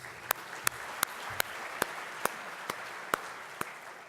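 Sparse claps at a State of the City event after a city official is introduced, about nine distinct sharp claps spaced roughly half a second apart over a soft room murmur.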